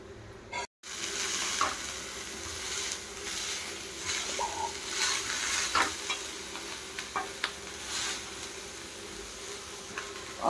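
Pesarattu batter mixed with onions, cumin and curry leaves sizzles in hot oil while being stirred, a steady close crackle with scattered scraping clicks and a brief dropout near the start.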